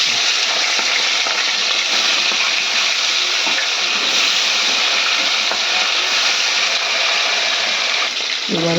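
Fish pieces frying in hot oil, a loud steady hissing sizzle close up that keeps going without a break, with no one speaking.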